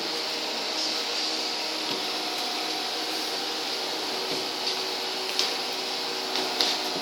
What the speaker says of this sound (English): turbo pumps backed up by a rotary pump